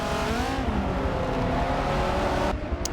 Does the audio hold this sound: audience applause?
no